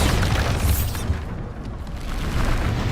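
Bombarda explosion spell cast in the Hogwarts Legacy video game during a busy fight, a loud, rumbling boom with a heavy low roar that holds for a few seconds, dense and close.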